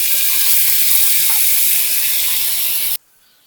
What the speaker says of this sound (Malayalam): ഇനി അതൊന്ന് ചൂടായി വരുമ്പോൾ ഈ ചിക്കൻ്റെ പീസുകൾ ഇതിലേക്ക് ഇട്ട് കൊടുക്കുക.